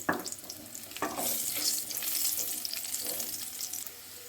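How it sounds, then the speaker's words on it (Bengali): Coconut pieces fry in mustard oil with a steady, moderately close hiss and a few sharp clinks of a utensil against the pan, no voices. "সেটা আমি সর্ষের তেলে খুব ভালো করে লাল করে ভেজে নেব"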